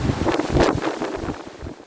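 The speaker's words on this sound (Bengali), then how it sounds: "ঝোড়ো বাতাসে উত্তাল সমুদ্র" Strong gusts of Cyclone Remal buffet the microphone beside a rough sea on the Patharghata coast of Bangladesh, loud roaring wind over the churning surge of waves.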